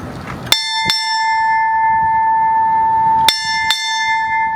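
Four strokes of a ship's bell sound at a naval change of command ceremony, struck in two close pairs. Each bright, loud tone rings on and decays slowly between the pairs.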